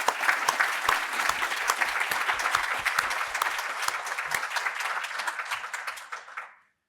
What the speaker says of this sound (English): Please join me in a round of applause for this terrific panel.